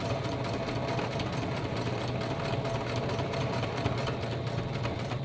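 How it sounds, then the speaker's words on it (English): A basic, non-fancy home sewing machine, several years old, runs steadily in a continuous even mechanical hum with a fast rhythmic stitching pulse, fairly close and alone without talk. "And this is not a fancy sewing machine."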